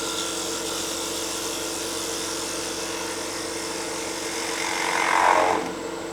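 A wood lathe tool cuts into a spinning wooden bowl as it is turned, a steady broadband whir and hiss that swells louder near the end of the cut before easing back.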